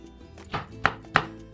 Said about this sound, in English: you just need to use the chopping board to chop